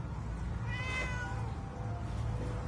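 A cat in the Fallout 4 video game meows a few times in quick succession, clear over a steady low in-game background hum.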